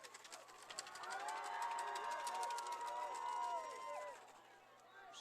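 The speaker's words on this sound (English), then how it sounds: "Spartan cheering section" A student cheering section roars at a high school football game between Mountain View and Los Altos, a broad crowd yell swelling and then easing off, with a commentator's voice over it.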